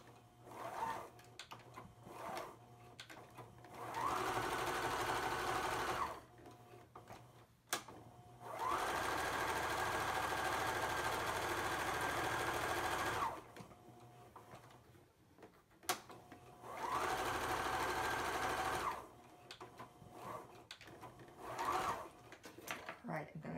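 A sewing machine stitches a fabric mask with a filter pocket in three sustained bursts of steady motor whir, each several seconds long and close by, separated by quieter pauses with handling noises and occasional speech.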